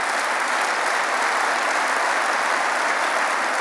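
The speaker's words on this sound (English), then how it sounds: "please do give them a round of applause" Applause at a political party's annual leader's dinner in a large convention hall: dense, sustained clapping from a big crowd, even and loud throughout.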